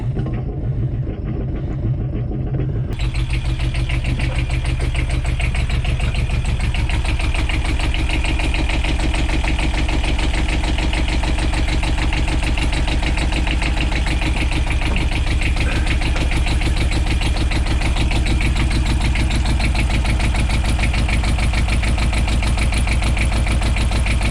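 Inboard engine of a wooden Tahiti gaff cutter idling steadily in a loud, continuous low rumble with a faint knocking pulse, starting after a brief quieter moment and running without a break.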